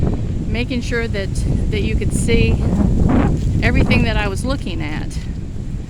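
Gusty wind blows outdoors, a loud, rumbling buffet against the microphone that stays constant beneath a person talking the whole time.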